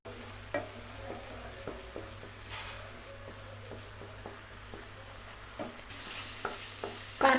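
Onion, green chili and ginger-garlic paste sauté in oil over a medium flame for an egg malai curry, a soft continuous sizzle broken by sporadic scraping stirs of a spoon against the pan, close and fairly quiet.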